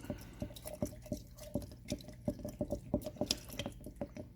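Liquid poured into a Utah crude oil sample and stirred in a rough bench test, giving a close, steady run of small wet drips and clinks that repeat in a quick irregular rhythm, with no talking.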